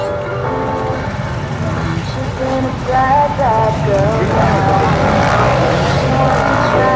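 A rally car revs at the start of the Rand'Auvergne special stage, its engine note rising and wavering loudly and close by while a commentator talks over it.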